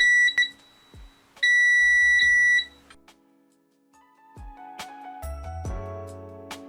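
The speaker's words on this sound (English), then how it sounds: "First, touch the probes together. You should hear a beep." Sharp electronic beeps from a digital multimeter in continuity mode sound in short bursts as the probes touch, a pair of quick chirps then a longer tone, amid some clicks and handling noises, no voices.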